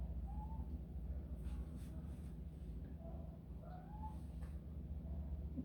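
Domestic cat meowing indoors, several short faint rising meows spread across a few seconds over a low steady background hum.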